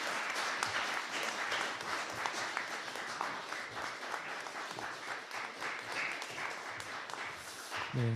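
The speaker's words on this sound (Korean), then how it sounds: "뜨거운 박수 부탁드리겠습니다" A church congregation at an Easter Sunday service claps warmly, a steady, even spread of many hands applauding throughout, recorded at a moderate distance, with a faint tone entering right at the end.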